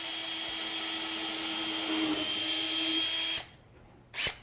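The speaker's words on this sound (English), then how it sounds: "So I'm going to go ahead and pre-drill these blocks right now." A power drill bores pilot holes into wooden pool-table blocks with a 3/16 bit, a steady close whine running for about three and a half seconds before stopping, followed by a brief second burst of the drill.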